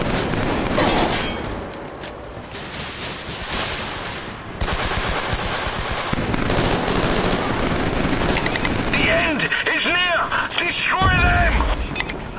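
A sniper rifle fires rapidly in the Killzone 3 online beta shooter, with dense bursts of gunfire and explosions across the battle and game sound effects, while a player talks over the action.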